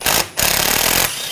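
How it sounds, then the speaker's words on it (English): An impact tool spinning out a brake caliper bracket screw with a 6mm hex socket on a 2007-2013 BMW X5 front brake job: a loud rattling burst, a short pause, then a longer burst. "Take this screw out, use a 6mm hex socket."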